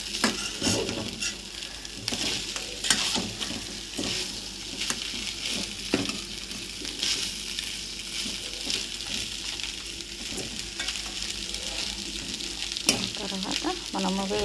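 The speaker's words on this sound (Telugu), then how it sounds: "ఈ విధంగా ఒక 2 నిమిషాలు అటుకులు చక్కగా స్టవ్పై వేపుకోవాలి" Flattened rice (poha) dry-roasting in a pan on a stove, a steady close crackling sizzle with scraping stirs and occasional sharper clicks, continuous for the whole stretch with no talk.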